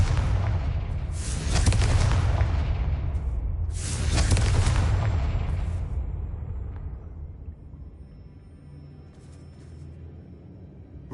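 Blasting-spell explosions in the Hogwarts Legacy video game: two heavy, booming blasts a few seconds apart, each with a sharp crack and a long rumbling decay, followed by a quieter tail with faint scattered effects.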